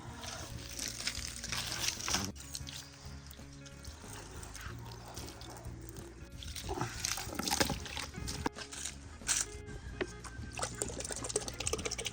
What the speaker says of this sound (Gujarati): ચલો પાઇપ તો નાખી દીધો હમણાં પાણી ખેંચવા પડશે